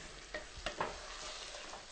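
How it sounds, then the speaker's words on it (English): Shrimp cooks in a hot pan with a soft, steady sizzle, close but quiet, broken by a few faint clinks or stirring touches. "We're going to let the shrimp cook for about 2 minutes"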